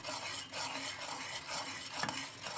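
Milk mixed with milk powder is stirred steadily in a cooking pot for a sweet milk dessert, giving a continuous close scraping and swishing with faint bubbling and no voices.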